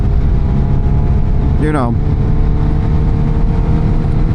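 A Kawasaki Ninja 1000SX with a full exhaust, no catalytic converter and a free-flowing air filter drones steadily while riding, a loud constant engine roar under wind noise as a rider talks over it.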